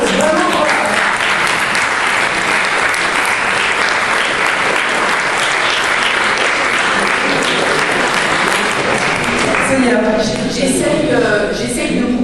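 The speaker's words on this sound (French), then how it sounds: "moi je voudrais qu'on l'applaudisse" Loud, sustained audience applause at a philosophy night event, honoring a woman on stage; thick continuous clapping fills the whole stretch and thins slightly near the end.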